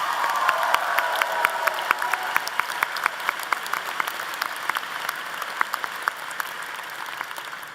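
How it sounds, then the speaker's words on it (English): A convocation crowd at Colorado State University applauds its orientation leaders, a dense, steady wash of many hands clapping at a constant level throughout with no voices above it. "Can we give them a round of applause?"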